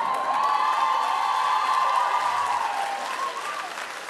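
An audience at a comedy show applauding, a loud dense burst of clapping with some cheering that holds steady and then slowly tapers off.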